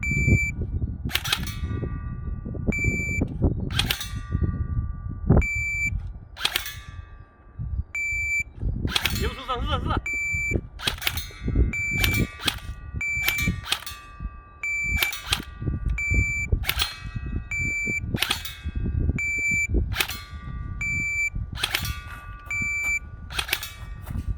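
Replica G3 infantry rifle shots striking a target: sharp cracks repeat at a steady pace, many followed by a bright ringing ping, with voices talking between them.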